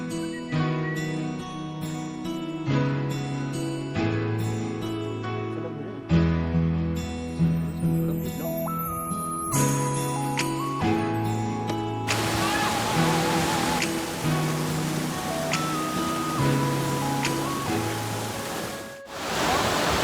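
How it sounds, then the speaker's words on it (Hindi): Stream water rushes at a small crossing on the Beas Kund trek near Manali, a loud steady roar that swells midway, with instrumental music playing throughout. "इस ट्रैक में इस तरह की छोटी मोटी वाटर क्रॉसिंग भी आती रहेगी"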